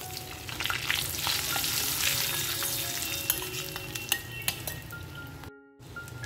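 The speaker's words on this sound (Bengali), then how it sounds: "দিয়ে দেবো ফোড়নে 1টা তেজপাতা, 2টো শুকনো লঙ্কা, 1টু জিরে, 1 ছোট এলাচ, লবঙ্গ," Whole spices sizzle in hot oil: a bay leaf, two dried red chillies, cumin seeds, small cardamom and cloves go in for a Bengali vegetarian pointed gourd dish. Close, steady crackling and spitting with a few sharp pops, briefly cut near the end.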